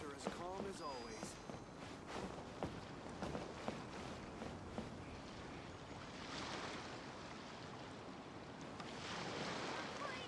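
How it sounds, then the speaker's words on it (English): Calm ocean waves wash softly and steadily in the video game Genshin Impact, a continuous surf bed under a voice talking near the start. "The waves are as calm as always."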